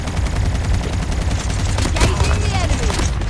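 Rapid bursts of video game gunfire crackle over a busy background, with several sharp shots clustered together midway and sounds continuing throughout.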